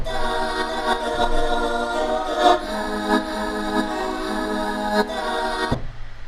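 A looping music sample with a bright, raised pitch, sustained tonal layers and a few soft hits, cutting off abruptly near the end.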